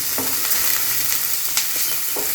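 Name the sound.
onions frying in a pan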